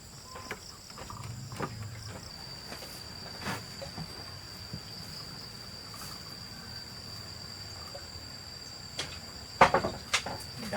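Crickets being dug up outdoors give a steady high chirping trill that runs throughout at moderate level, broken by occasional scraping and knocking from digging.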